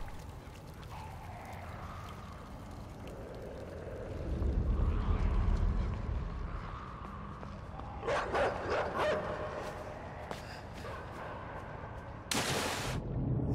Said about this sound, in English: Oh, there are dogs over there.